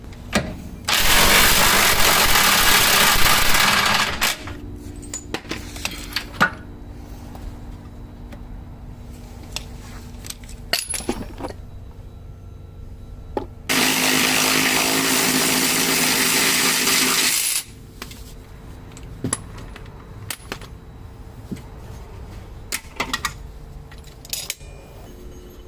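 Lower control arm bolts, 24 mm, being removed from a Mercedes W140 S500, with two long bursts of a loud power tool, likely an impact wrench, rattling against quieter clinks and shop handling between them.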